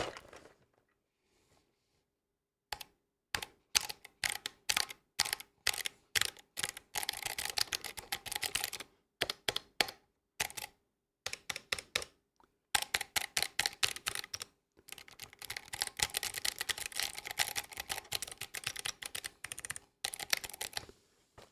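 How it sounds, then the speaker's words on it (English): A clicky mechanical keyboard with Kailh Box Jade switches is typed on in loud, sharp bursts of rapid clicks, with short pauses between runs and near silence at the start. "They're very clicky"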